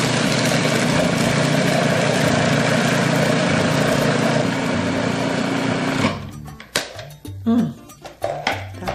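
Food processor blending fresh berries with no added sugar, a loud steady high-pitched motor whir for about six seconds before stopping, followed by clatter and handling sounds.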